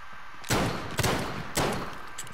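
Gunfire in Call of Duty: Modern Warfare, three loud, sharp shots at roughly half-second intervals, each ringing out briefly over background game sound.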